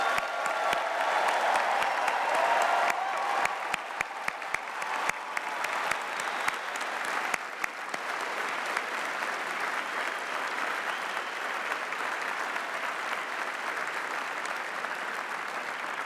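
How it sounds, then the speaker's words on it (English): A graduation ceremony audience in a cathedral applauds the graduating class, dense steady clapping filling the space, strongest at the start and then settling into an even, sustained round of applause heard alone. "So let's have another round of applause for our graduating class today."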